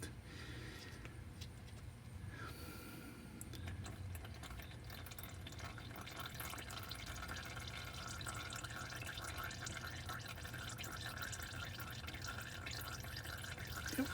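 Old transmission fluid drains steadily from a high-mileage Volvo XC90 at 245k, a continuous trickling pour heard close and fairly quiet, with a low rumble beneath and no talking.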